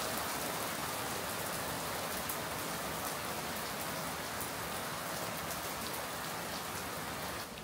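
Steady rain falls outside a house in the countryside, a dense, even hiss of drops on surfaces that continues unbroken throughout, moderately loud with no voices.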